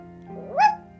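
A human voice imitating a small dog's bark, a single rising yip with a bright, nasal tone, loud and close against a faint steady background hum.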